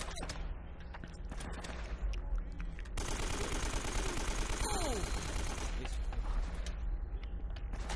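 Sustained automatic gunfire from a video game shooter, dense rapid bursts with scattered single shots, loud and continuous for several seconds with clanking weapon sounds mixed in.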